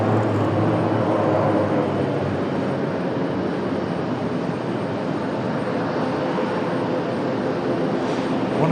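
An ATR turboprop airliner at Raleigh-Durham airport gives a steady, loud, broadband engine roar and propeller drone that holds constant throughout, with no talk over it.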